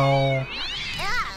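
Zombie cats in South Park: The Stick of Truth let out loud, close meows, a few drawn-out, rising and falling cries in quick succession, with game sounds around them.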